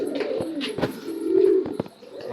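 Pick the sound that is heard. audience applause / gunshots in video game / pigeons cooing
pigeons cooing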